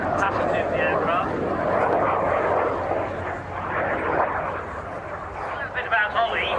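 At the Great Yorkshire Airshow at Church Fenton, a military aircraft with wingtip fuel tanks flies past, its engine making a steady broad roar while a voice talks over it throughout.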